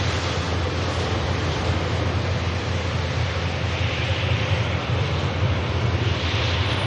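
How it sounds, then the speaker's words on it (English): A Finnair airliner arriving from Helsinki at Manchester Airport makes a loud, continuous broadband roar, steady and unbroken like rushing wind, with no talking. "you can see the Finnair just arriving from Helsinki"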